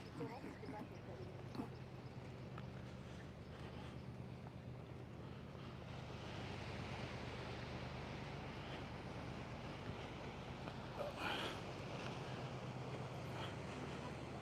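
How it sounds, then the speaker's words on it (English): Sea waves wash at the shore in Los Cristianos with the tide out, giving a steady, continuous roar of surf mixed with gusting wind noise across the microphone. "Nice sounds of the sea."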